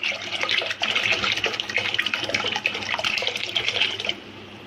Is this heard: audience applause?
no